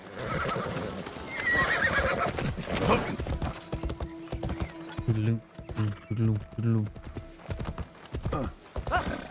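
A horse neighs and snorts with hoof clops mixed in, while a person talks over it and game tones ring out in the background.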